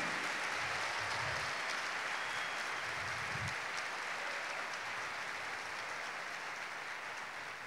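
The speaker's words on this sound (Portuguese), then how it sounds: "Então se vai ser assim, então aplauda o Senhor" A church congregation applauds in a sustained, dense wash of clapping that holds evenly throughout, with a few low thumps early on.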